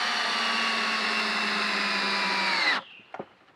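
An old power drill whines steadily at high speed for a few seconds during beehive construction, then cuts off, leaving a couple of faint clicks and handling knocks.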